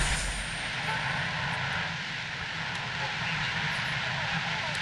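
Steady, loud roaring wind from a tornado sweeping through a dinosaur park in Jurassic World Evolution, a broad continuous rush with a low rumble that holds evenly throughout, with no talk over it.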